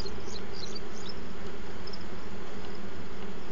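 Honeybees buzzing around an open hive while a virgin queen is placed inside, a dense, steady hum that stays close and loud throughout with no talking.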